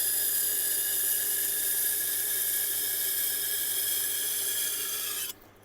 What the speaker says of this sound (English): one of the good things about these resin bonded diamond wheels is that you use clear water